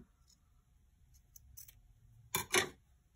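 Scissors snipping thread on hand-stitched journal fabric, a few faint clicks and then two close, crisp cuts near the end in a quiet room.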